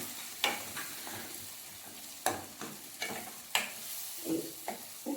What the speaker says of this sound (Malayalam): ഉള്ളിയും കരിവേപ്പിൻ്റെയും മുളകും എല്ലാം കൂടി ഇതിലേക്ക് നന്നായി ഒന്ന് വെളിച്ചെണ്ണയൊക്കെ ഒന്നും കൂടി മിക്സ് ചെയ്ത് കൊടുക്കുക